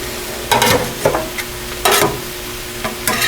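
Cheese steak frying on a hot grill, heard as short bursts of sizzling and scraping that come in quick clusters with quiet gaps between them.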